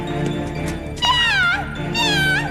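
A cartoon cat gives two loud, drawn-out meows, close and clear over a steady background bed, in an animated spy series.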